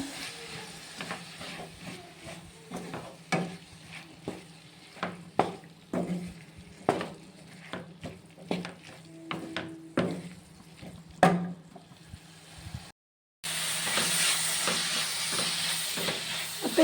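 Chopped tomatoes tossed into a pan with squid, sautéing with a steady hiss and sizzle under repeated sharp clacks of a spatula scraping and stirring, with a brief gap before a louder burst of frying.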